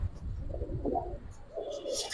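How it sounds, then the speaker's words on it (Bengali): Pigeons of the Giribaz breed coo in low, soft murmurs from nearby, a couple of rounded throaty calls over a steady background hum. "নিচে আমার কবুতর ডাকতেছে"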